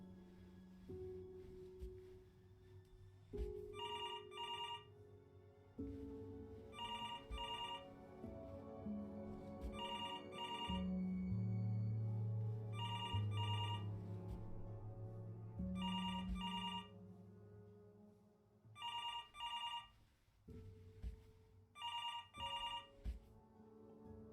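A telephone rings inside the video game Before Your Eyes, in repeated bursts of a bright double-trill bell about every two to three seconds, set over a low sustained musical score with no talking.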